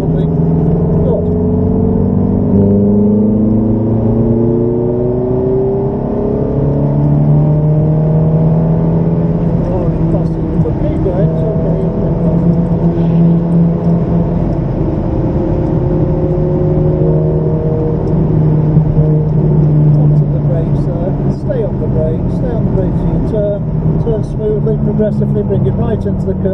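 A Ferrari engine drones and climbs in pitch as the car accelerates out of corners on a track, a loud sustained note rising and falling repeatedly, with someone talking over it throughout.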